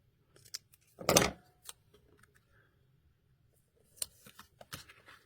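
Scissors trim a Winter Wonderland paper card piece for a flip flap pocket card: one loud burst of crisp snips near the start, then a few lighter cuts and paper handling, close up in a quiet room.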